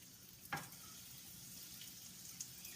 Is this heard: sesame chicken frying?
yes